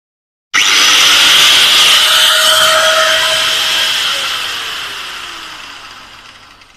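A Total 4-inch hand grinder starts up with a sharp whine, spins loud and steady for several seconds, then winds down with a falling pitch; no one talks.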